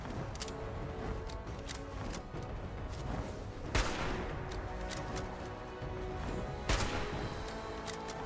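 Shotgun blasts from the game Fallout 76 ring out twice as sharp, loud booms about three seconds apart over a busy bed of game music and ambience, with lighter thuds between them.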